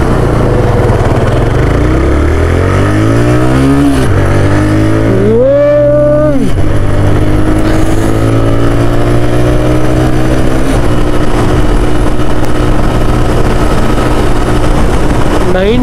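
A TVS Raider 125 motorcycle engine revs loud and close as it runs up through the gears toward top speed, the pitch rising and dropping at each shift, with steady wind rush throughout.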